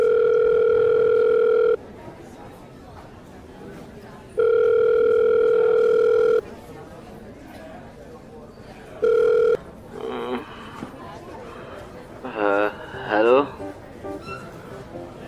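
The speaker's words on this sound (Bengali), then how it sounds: "ফোনটা তোল না" A telephone rings in long, steady electronic bursts: two of about two seconds each, then a short one, followed by a voice speaking and some other sounds.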